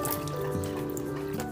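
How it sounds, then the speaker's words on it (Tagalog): Water poured from a glass, a short steady trickle and splash of liquid lasting about a second and a half at moderate volume with faint tonal background hum. "Lagyan natin ng tubig ng baso."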